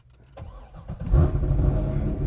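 Chevrolet Corvette Z06 engine cranking briefly, then catching and firing into a loud, deep rumble that settles into a throaty idle.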